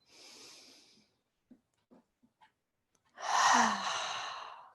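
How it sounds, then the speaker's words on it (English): A deep cleansing breath during prenatal yoga: a long airy exhale, a few faint small sounds, then a louder, fuller breath close to the mic. "just take a cleansing breath in"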